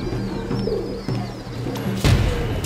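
Pigeons cooing in soft, repeated rolling calls close by, steady throughout, with a brief thump or clatter near the end.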